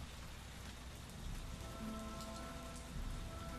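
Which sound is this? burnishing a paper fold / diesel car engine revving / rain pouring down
rain pouring down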